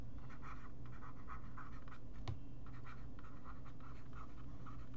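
Handwriting on paper during a lesson: soft, rhythmic pen scratches in short strokes, faint and close, without talk.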